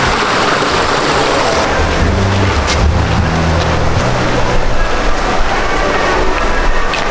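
Mountain spring water in Manali rushes in a loud, steady, broadband wash, constant and close, with no one speaking over it.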